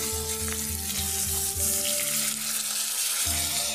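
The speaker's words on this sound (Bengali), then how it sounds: "পেঁয়াজ আর রসুনটা বেশ কিছুক্ষণ কষানোর পর মানে যখন ব্রাউন কালার এসে যাবে তারপর দেব 1 চামচ আদা বাটা।" Onion and garlic fry in a pan with a spoonful of ginger paste for a fish curry, giving a loud steady sizzle with rhythmic scraping strokes of stirring, a brief quieter gap, then more stirring.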